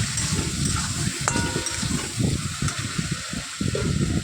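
Chopped tomatoes sauté in a pan for a duck egg curry, giving a continuous close sizzle and hiss with soft stirring scrapes throughout and no talking.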